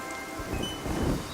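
Rain and thunder in the god game Godus, a steady wash of falling rain with low rumbling swells of thunder underneath, close and continuous over a short stretch.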